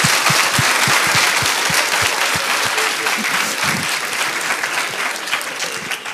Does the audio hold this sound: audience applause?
yes